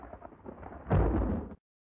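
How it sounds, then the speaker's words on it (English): Thunder breaks out in a sudden heavy rumble after a faint murmur, rolls loudly for about half a second and then cuts off abruptly. "Thunder starts rumbling,"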